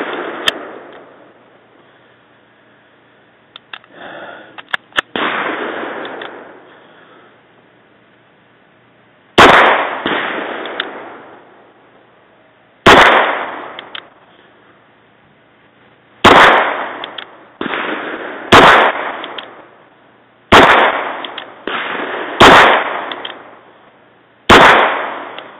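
Sig 226 pistol shots ring out outdoors, a few sharp isolated reports first, then a quicker string of loud cracks, each followed by a short decaying echo.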